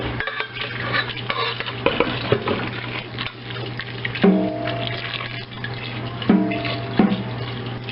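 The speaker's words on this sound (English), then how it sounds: "washing it mixing it around, put it back in here, and then I'm going to strain it around again." Homemade butter being washed and swirled around in filtered water in a bowl, giving steady sloshing and stirring with occasional clinks of a utensil against the container, continuous and close with no talking.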